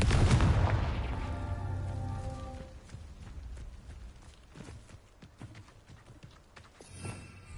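Confringo spell explosion in Hogwarts Legacy, a loud booming blast at the start with a rumbling decay, followed by scattered impacts and clattering debris.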